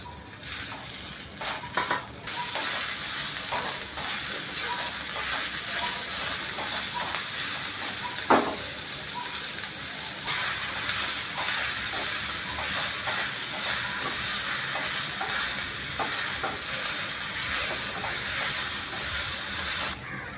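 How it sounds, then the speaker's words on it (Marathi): Onion roasts in a hot pan with a steady, broad sizzle and hiss that carries on throughout, with occasional stirring scrapes and no talk. "त्याच्यानंतर कांदा घेऊया भाजून."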